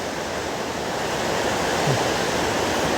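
Russell Creek running as a raging river, a loud, constant roar of rushing water heard up close, unbroken throughout, with no voices.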